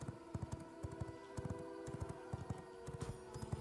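Horse hooves beat in a quick, steady rhythm in the game V Rising, faint and somewhat distant, with no voices.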